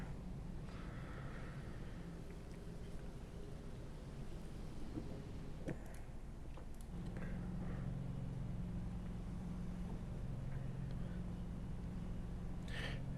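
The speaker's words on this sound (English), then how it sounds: "listen to the calm sounds of these cars pacing around" Race cars in a FARCA Premier Series event circle steadily behind the pace car under caution, a continuous low engine drone at moderate distance with a brief sharp knock midway and a deeper rumble settling in for the second half.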